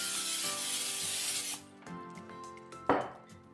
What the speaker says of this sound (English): We're gonna take some olive oil and spray some in.